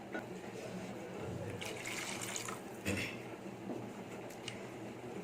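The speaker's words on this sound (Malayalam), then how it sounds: "ആവശ്യത്തിന് വെള്ളം ചേർത്ത് കൊടുക്കാം" Water pours and splashes into a pot of cassava in a steady stream, close by, with brief clatters and a faint voice in the background.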